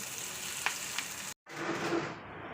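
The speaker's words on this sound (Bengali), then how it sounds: "তো কাঁচা লঙ্কা পেঁয়াজ একটু ছোলা ভাজা করে নিচ্ছি" Chickpeas frying in a pan with green chillies and onion, giving a steady close sizzle with a couple of sharp stirring taps, a brief cut to silence, then the sizzle resumes.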